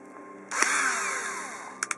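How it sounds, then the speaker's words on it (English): A power drill bores into the plastic of a third-party Xbox One controller shell: about a second of close, loud, whining drilling, then silence broken by two quick sharp clicks. "and then we are going to just drill."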